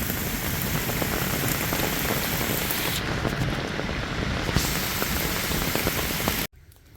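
Heavy rain pours down on a hiking trail in a loud, dense, continuous hiss of drops striking the surface, cutting off abruptly near the end and leaving near silence.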